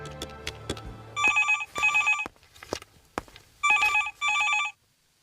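A telephone rings in short double bursts, two bright electronic trills, a pause, then two more, with clattering handling noises and footsteps before and between the rings.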